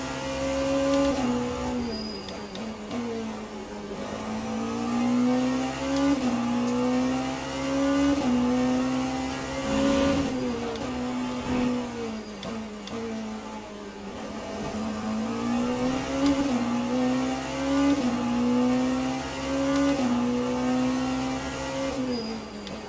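Race cars circle the Imola track in Le Mans Ultimate, their engine notes droning and rising and falling continuously as cars pass one another, loud and sustained with no talking.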